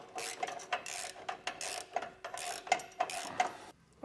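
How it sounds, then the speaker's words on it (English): A ratchet fitted with a 9/16 socket clicks in quick, close bursts as it tightens nuts while mounting air spring controls, the pawl ticks repeating in short rhythmic strokes with no voices. "we'll just go ahead and take our 9/16 socket"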